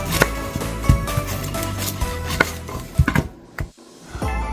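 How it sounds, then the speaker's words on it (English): An onion being chopped with a knife on a cutting board, a series of sharp, uneven knocks and taps of the blade against the board, close and fairly loud, with a brief quiet gap near the end before the chopping resumes. "To start, I'm going to chop up an onion."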